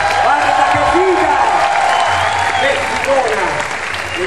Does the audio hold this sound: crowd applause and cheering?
yes